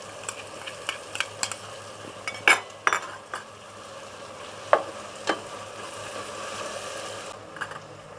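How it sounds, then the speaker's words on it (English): Crushed garlic and ginger frying in a pan while being stirred, a constant low sizzle punctuated by sharp utensil scrapes and taps against the pan at an uneven pace. "Continue to stir it."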